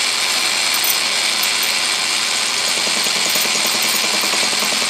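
A tool post die grinder grinds a workpiece on an Atlas lathe, giving a loud, steady high-pitched whine with a faint rhythmic chatter underneath, running unbroken throughout.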